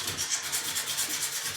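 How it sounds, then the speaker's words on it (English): Light hand sanding over a furniture surface with Venetian plaster accents gives a soft, rhythmic rubbing in regular back-and-forth strokes, close and alone. "just very lightly sanding."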